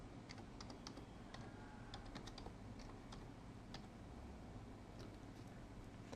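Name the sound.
typing on a computer keyboard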